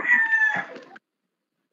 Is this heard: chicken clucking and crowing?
yes